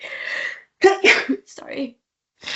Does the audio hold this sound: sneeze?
yes